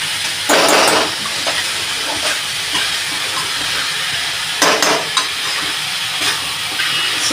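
Vegetable momo stuffing stir-fried in a pan over high flame, giving a continuous loud hiss and sizzle with a few sharper bursts of spattering.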